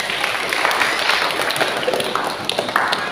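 Children clapping their hands at a church children's gathering, scattered, uneven claps with some sharp individual taps over a lively room, fairly close and loud.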